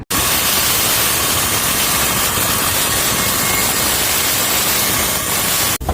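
A power drill runs steadily and loud from start to finish, a continuous whirring drone with no pauses, used while installing toggle bolts for a restaurant fry cutter.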